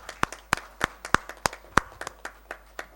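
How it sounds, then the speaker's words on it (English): Sparse clapping from a small audience applauding a panel of speakers, about a dozen sharp, separate claps over a few seconds, close and fairly quiet, with no talk. "let us give them a round of applause"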